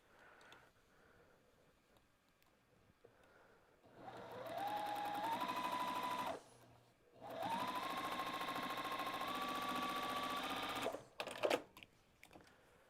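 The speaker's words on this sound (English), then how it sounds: "then I'll flip it over and I'll sew next to that edge" A sewing machine stitches a quilt-as-you-go fabric postcard in two sustained runs of steady, loud whirring, separated by a short pause, then brief clicks as it stops.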